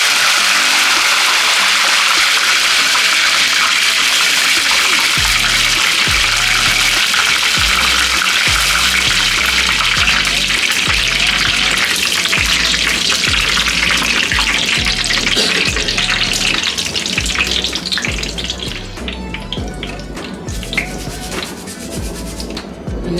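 Curry leaves dropped into hot oil for a spicy flattened-rice (avalakki) mixture, giving a loud, steady sizzle and crackle that continues throughout, with dense frying hiss and occasional spatter, easing slightly near the end.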